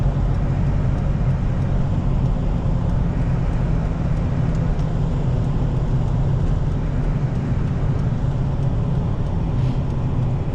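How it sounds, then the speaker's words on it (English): A steady, loud rumble of road noise from a vehicle on a cold road, with a big log truck driving close behind, the drone continuous and unbroken throughout. "A big log truck behind me"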